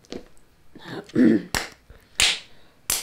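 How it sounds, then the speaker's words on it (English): A few slow, separated hand claps ring out one by one during a lively podcast chat, each sharp and close, with spoken voices around them. "there's been some slow claps this episode"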